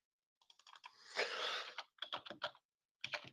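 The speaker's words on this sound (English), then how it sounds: "Sound of furious typing on my keyboard." Fast, furious typing on a computer keyboard, close and clear, coming in dense bursts of clattering keystrokes with a short pause before a final flurry, no talking.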